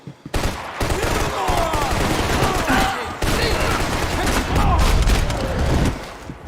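Dense, loud gunfire in Max Payne 3, continuous automatic bursts and shots layered with in-game shouting voices and occasional booms.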